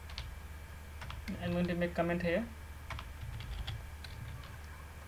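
Rapid clicking of computer keyboard keys runs throughout, with a voice speaking over the middle stretch of the typing.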